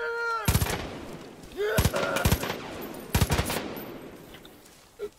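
Bursts of gunfire in the first-person shooter game Far Cry 5, sharp loud volleys of several rapid shots around the start, middle and later, with game voices in between.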